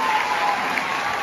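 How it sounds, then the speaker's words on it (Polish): An audience at an Erasmus final show claps for young performers, a dense, loud, continuous burst of applause throughout. "Bardzo jeszcze proszę o brawa"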